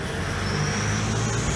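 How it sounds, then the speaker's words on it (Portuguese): A 2006 Toyota Hilux engine idles with its turbocharger letting out a steady high whine over a constant low mechanical drone, close and continuous, with no speech. "Eu conheço gente que roda anos com esse barulho aí na turbina."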